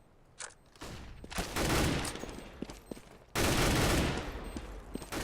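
Gunfire from a Counter-Strike match, heard as bursts of fast shots that come and go in clusters, with a loud sustained volley near the end, all without talk.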